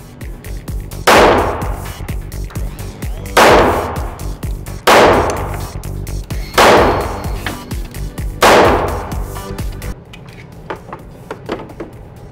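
Five loud pistol shots from a Springfield Range Officer 1911 at a shooting range, spaced a few seconds apart, each a sharp crack with a ringing decay, followed by quieter handling noises.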